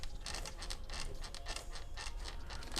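Car stereo head-unit for a 4Runner being carried and moved around, giving faint repeated squeaks and creaks in a quick irregular rhythm, close by and alone.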